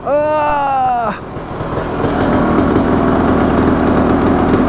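A motorcycle being started after some struggle: a rising electric starter whine for about a second, then the engine catches and settles into a loud, steady, close running roar.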